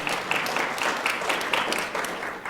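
Dense, steady audience applause at an awards reception, many hands clapping together at close range for the whole stretch with no let-up.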